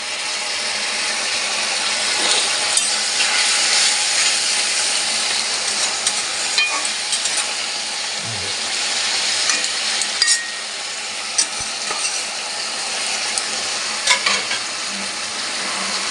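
Chopped pea greens frying in oil with snakehead fish pieces and head, a continuous close sizzle with occasional scrapes and clicks of stirring, steady and loud throughout, no voices.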